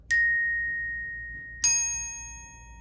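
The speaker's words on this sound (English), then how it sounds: "make sure that you bounce the mallet off of the bar" Two bars of a bell kit struck with a mallet ring out one after another, each a bright, clear metallic tone that sustains and slowly fades, the second higher and brighter, close and alone.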